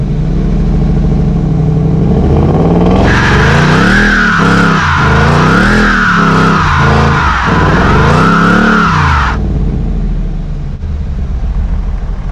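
A manual Ford Mustang GT holds on its line lock and does a burnout, the engine roaring at high revs with loud screeching tire squeal and rising and falling revs, close and sustained for several seconds before cutting off.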